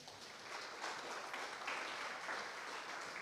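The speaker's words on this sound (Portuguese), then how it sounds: "Aplauda o Senhor." Church congregation applauds during a sermon, a soft, distant, continuous patter of many hands clapping for a few seconds.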